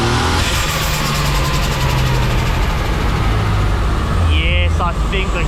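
Turbocharged Ford AU Falcon with a T5 gearbox running hard on a dyno, a loud steady engine roar with a revving rise as the clutch slips, close and continuous, with voices talking over it.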